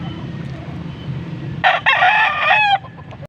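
A Sweater breed gamefowl rooster gives one loud, close crow lasting about a second at a busy pet market, over a low background murmur.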